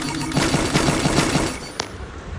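Rapid automatic gunfire from a player's favourite gun in a video game, a quick even string of shots with a sharp single report near the end, loud and close with no talk.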